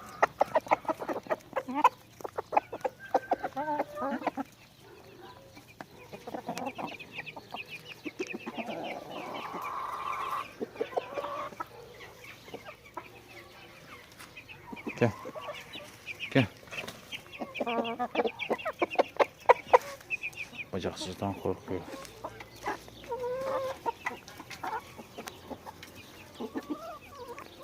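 Garden hens cluck and murmur around a rooster, scattered clucks and short calls coming and going over a long stretch, with a person speaking intermittently nearby.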